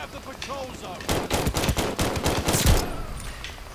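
Pistol hip-fire in a video game: a rapid string of sharp gunshots in quick succession, loud and close, clustered in the middle of the moment with quieter game sound around it.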